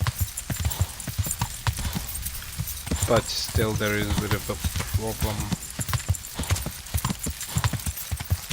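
Horse hooves clip-clop steadily in the medieval game Kingdom Come Deliverance, a brisk rhythmic stream of close hoof strikes, with someone talking over them partway through.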